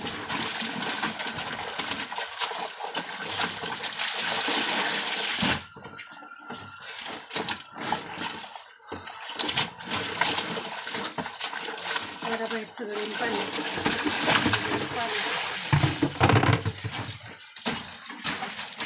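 Thick quilts are soaked and washed in water in a village setting, with splashing, sloshing and gushing bursts that stop and start, heard close with brief pauses.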